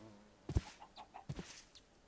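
Chickens clucking in the Minecraft video game, a few short close clucks spread across a quiet stretch.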